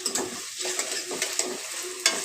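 Spices for a tempering crackle and fry in hot oil in a pan beside a simmering chicken tomato curry, with steady sizzling broken by repeated stirring scrapes and a few sharp pops, close and fairly loud.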